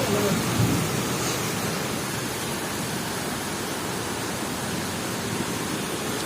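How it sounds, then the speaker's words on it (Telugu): Heavy rain pours down in a dense, continuous roar, with thunder rumbling in the background throughout. "సార్ రెండులా పడుతుంది వర్షం"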